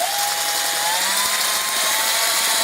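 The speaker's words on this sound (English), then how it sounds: "We're now switching to a real coarse sandpaper, probably about an 80 grit." A coin ring is sanded with coarse 80-grit sandpaper on a spinning power tool: a loud, continuous harsh whirring grind with a steady whine, close and unbroken, no talk.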